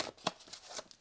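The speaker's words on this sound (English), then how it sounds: "let's give these cards a little bit more of a shuffle" A deck of Light Workers Tarot cards is shuffled by hand, quick soft riffling bursts of papery flutter, close but quiet, with no voices.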